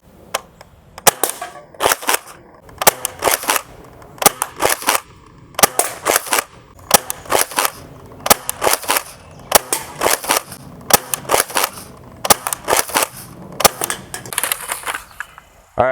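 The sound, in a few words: Nerf Rival Hypnos blaster firing shots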